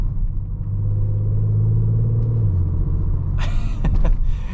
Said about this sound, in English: And you just get this really nice deep rumble from that V6.